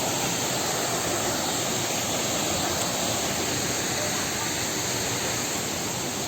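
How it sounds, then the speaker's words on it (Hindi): Small waterfall beside a rough mountain trail, a steady broadband roar of falling water filling the whole clip, close and continuous with no breaks. "वाटरफॉल"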